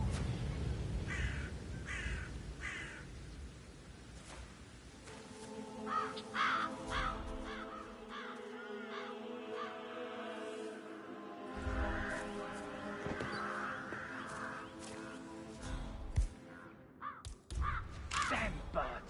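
Crows caw repeatedly in the video game Hitman, mission Death in the Family, harsh calls scattered through the scene while characters talk over them.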